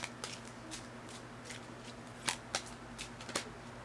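Tarot cards shuffled and drawn at close range, producing quiet irregular riffling flicks and sharper snaps over a faint steady hum, with no talking.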